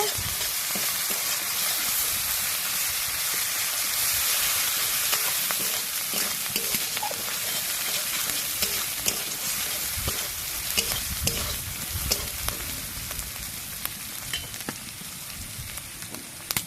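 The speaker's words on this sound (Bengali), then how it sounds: "আদা বাটা, রসুন বাটা, এগুলো একটু ভেজে নেব।" Ginger and garlic paste frying with browned onions in a pan, a loud, continuous hiss of sizzling oil close by, punctuated by frequent scraping and stirring clicks throughout.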